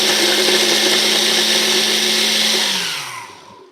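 High-powered blender-type machine mincing three garlic cloves, a loud steady whirring roar that holds for about three seconds before winding down.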